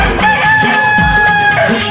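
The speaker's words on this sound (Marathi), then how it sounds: "कोंबड्यानं हो बांग दिली" A rooster crows within a Marathi devotional song for the goddess, the drawn-out cock-a-doodle-doo rising over the music across the whole stretch, loud and prominent in the mix.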